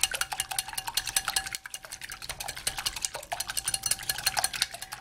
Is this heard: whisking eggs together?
yes